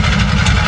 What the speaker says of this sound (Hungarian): Hát, berúgták a Harley-t.